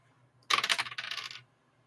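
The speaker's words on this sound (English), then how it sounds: "I'm very good at rolling dice." Dice tumble briefly across a table in a tabletop game, a close, sharp clatter of rapid clicks lasting about a second before settling.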